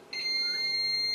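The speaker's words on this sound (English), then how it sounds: "There's a beep." A FlashForge Finder 3D printer gives a sustained high electronic beep during bed leveling, starting abruptly and holding a steady pitch, close and clear with no voices.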